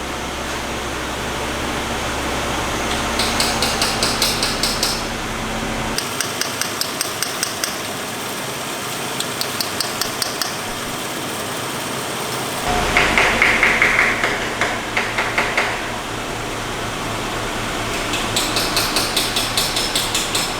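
A 2000 Nissan Xterra 3.3 engine idles steadily with a low hum, with a P0125 knock sensor fault, broken by bursts of rapid tapping clicks and a brief high whine partway through.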